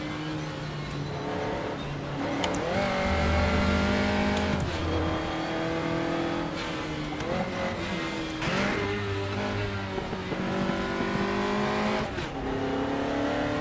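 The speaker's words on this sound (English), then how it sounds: "I'm gonna test and see if I actually need to blip this car in order to shift down to first." Race car engine in the RaceRoom racing game revs hard through repeated rising and falling sweeps, with throttle blips and downshifts between bursts, loud and steady throughout with no talking.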